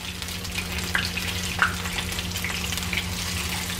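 Shrimp fritters fry in a shallow layer of hot oil, a continuous close crackling sizzle with a few sharper pops and a faint steady hum underneath.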